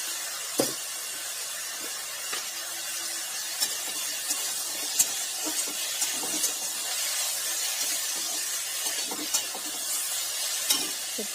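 Spices, salt, turmeric and chilli powder fry in a pan with a steady bright sizzle and hiss, broken by occasional soft stirring clicks and scrapes close by.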